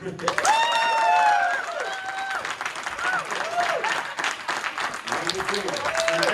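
An audience at a panel discussion applauds with steady, moderately loud clapping, while voices talk and call out over it throughout.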